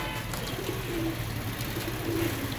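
Pigeons coo softly at a breeder's loft in Faisalabad, a low rolling call repeated a few times over steady background hum, with no talking.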